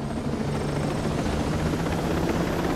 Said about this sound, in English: it looks like we're going to hop in this chopper to do so